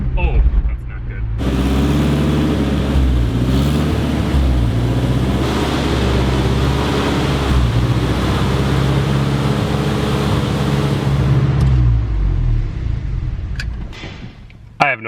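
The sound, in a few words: lifted minivan engine idling high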